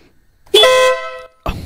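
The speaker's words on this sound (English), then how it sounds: "This is the sound bomb. It's an air horn for your motorcycle" A Denali Sound Bomb motorcycle air horn gives one short, loud, bright blast of under a second, followed by a brief thump or exclamation.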